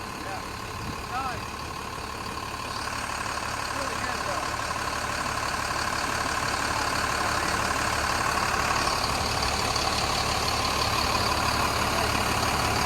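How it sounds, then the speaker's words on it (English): A Unimog camper truck's engine idles steadily with a low, continuous diesel-like rumble and faint mechanical whine, close and even for the whole stretch. "today we are going to test drive this Unimog"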